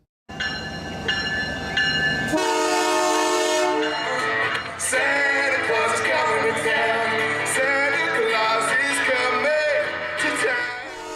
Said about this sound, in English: The Canadian Pacific Holiday Train is set to arrive in Windsor on December 1st at 5:45 p.m.